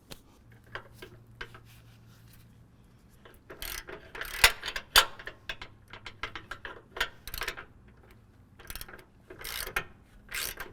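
A wrench works the 27 mm and 21 mm upper control arm pivot bolts on a 2024 Ford F-150 during a SuperPro suspension install, giving scattered close metallic ratchet clicks and clanks in short irregular bursts with quiet gaps.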